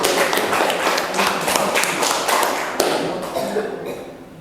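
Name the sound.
classroom applause for group 1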